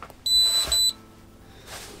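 Acetech Blaster airsoft tracer unit giving three short, high electronic beeps close by, a quiet pause following, with no talk over them.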